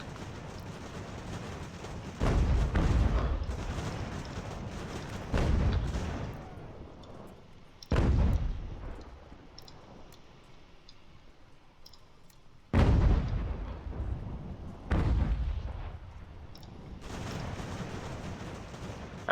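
Artillery guns firing in the strategy game Ultimate General: American Revolution, five or six heavy booming shots spaced several seconds apart, each followed by a fading rumble over a low background of battle noise.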